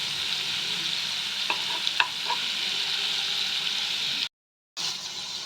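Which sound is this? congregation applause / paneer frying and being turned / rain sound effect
paneer frying and being turned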